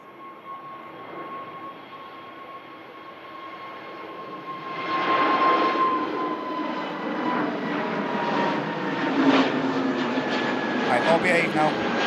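British Airways shuttle jet at Manchester Airport, a steady engine roar that swells and grows louder midway, with people talking over it.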